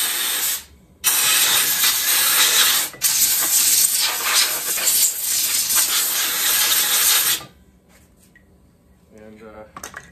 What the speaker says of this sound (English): I'm just blowing the brake cleaner off so I don't have any oil flying up on the pulleys in here